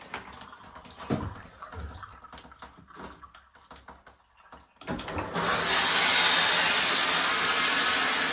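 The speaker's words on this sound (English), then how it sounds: "And we have water." Water from a newly repaired shower starts up after a quiet stretch, bursting into a loud, steady, free-flowing hiss that continues unbroken to the end.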